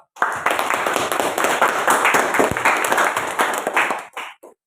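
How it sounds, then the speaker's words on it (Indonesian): Classroom of students clapping for a classmate's correct answer in a geography lesson, a dense burst of many hands lasting about four seconds before tapering off at the end. "Berikan tepuk tangan dulu dong untuk teman yang sudah mampu menjawab"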